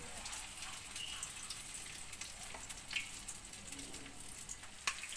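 Food frying in hot oil in a home kitchen, a steady soft sizzle with faint crackles and occasional sharper pops throughout, fairly quiet and close.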